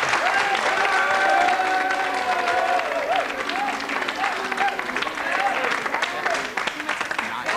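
Sustained audience applause from a large crowd at a Danish broadcast event, dense and steady clapping throughout with scattered cheers and voices mixed in.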